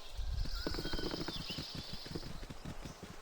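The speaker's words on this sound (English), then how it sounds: "Look, horses. Hello, horse. Nice horsey." Horses in the video game Baldur's Gate, with a steady run of hoof clip-clops and a faint whinny under the game's ambient music.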